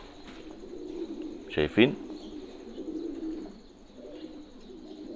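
A pigeon with a respiratory illness breathes with its beak open, giving a short, close pair of throaty cooing bursts over quiet background, with a voice speaking briefly.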